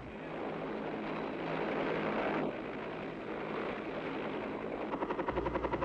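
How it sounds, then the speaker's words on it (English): Military helicopter gunships fly over a target area, a steady, loud rotor roar that grows toward the end into a rhythmic, close blade thumping, with no talk. "Helicopter gunships come over the target to reconnoiter and to suppress enemy movement in the area."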